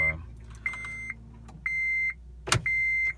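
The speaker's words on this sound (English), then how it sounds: "the fuel pump is priming" A car's fuel pump primes before cranking on E85 fuel, heard as a few short electric whirring hums separated by pauses, with a sharp click and clunk between them, fairly quiet and close.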